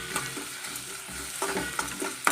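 Curry leaves fry in hot oil with a steady crackling sizzle, while a utensil stirs and scrapes the pan in several sharp knocks and sweeps, close and fairly quiet with no voices.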